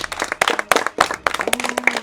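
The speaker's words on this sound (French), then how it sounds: "Voilà, on peut applaudir aussi" An audience at a live-action Werewolf party game claps in a brief burst of applause, the claps close and distinct, with an irregular rhythm that carries on steadily.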